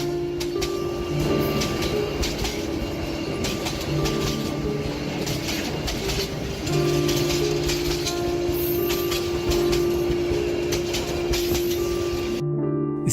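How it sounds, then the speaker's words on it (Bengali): A train pulls into a quiet, nearly empty station, its rumble joined by sustained tonal horn blasts that start and stop several times. "হঠাৎ ট্রেনের পোপো শব্দে আমি উঠে দাঁড়ালাম।"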